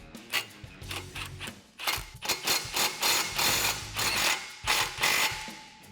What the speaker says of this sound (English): grab your 15 socket again, and we're gonna tighten up these clamps